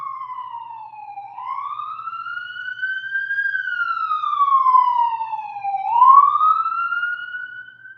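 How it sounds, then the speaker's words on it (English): A loud siren in a downtown area wails steadily, its pitch sweeping slowly up and down in long cycles, continuous and fairly close with no talking. "So I got sirens going on here."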